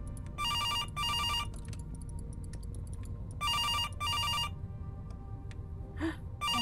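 An indie game telephone rings twice in paired trilling bursts separated by several seconds of soft twinkling tones and a low droning ambience, the rings loud and close.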